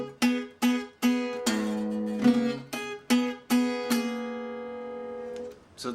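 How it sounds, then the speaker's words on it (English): Brisk open strums on an acoustic guitar in Delta blues style ring out in a series of sharp, evenly spaced chords, each decaying before the next, the last left to sustain and fade. "he plays these brisk open strums"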